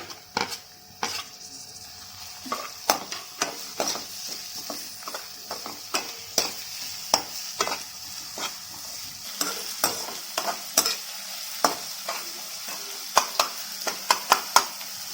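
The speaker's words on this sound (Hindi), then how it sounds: "इसे लाइट ब्राउन होने तक फ्राई करनी है, बहुत फ्राई नहीं करनी, लाइट ब्राउन।" Chopped onion fries in a pan with a soft constant sizzle while a spoon stirs and scrapes, giving repeated sharp metallic clicks and clatters at an uneven rhythm, close by and without voices.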